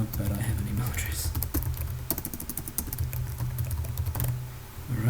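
Rapid keystrokes on a computer keyboard while entering details in Visual Studio 2015, a close, steady patter of clicks over a low hum, with brief talking present.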